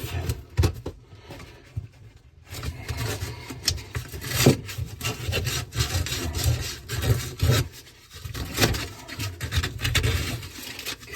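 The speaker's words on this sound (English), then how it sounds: "clean this up with a little bit of sandpaper and then some PVC cleaner" Sandpaper scrubbing a PVC drain pipe during a kitchen drain installation, in close, irregular rubbing strokes with short pauses, fairly loud and alone.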